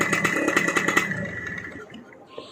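A Suzuki RK motorcycle engine idles with a quick, pulsing putter, then is switched off about a second in, the sound cutting out and fading to near quiet.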